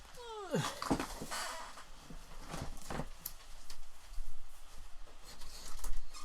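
A dog whines in a few high, sliding cries near the start, followed by soft shuffling and pattering noises in a room.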